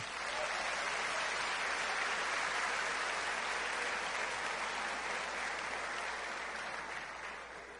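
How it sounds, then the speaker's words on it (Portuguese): A church congregation gives long, steady applause welcoming preacher Misael Santana at the GMUH 2015 gathering, a dense wash of many hands that holds strong and slowly fades toward the end, with no talking over it. "Receba Misael aplaudindo ao santo de Israel"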